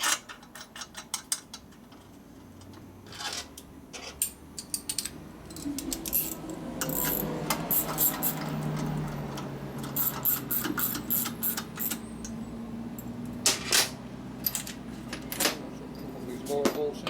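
A ratchet tightens the case bolts on an M8 145 ci big-bore motorcycle engine with 4.5-inch cylinders, giving irregular bursts of close metallic clicking and ticking over a steady low workshop hum.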